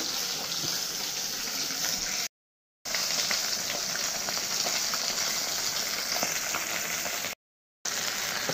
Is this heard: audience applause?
no